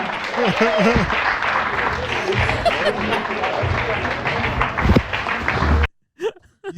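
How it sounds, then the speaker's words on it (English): Applause from an open mic comedy audience welcoming the next performer, a dense steady clapping wash with some crowd voices and talk over it, cutting off abruptly near the end. "I want you guys to start clapping for this next guy."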